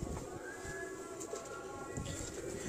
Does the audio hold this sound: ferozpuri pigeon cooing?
yes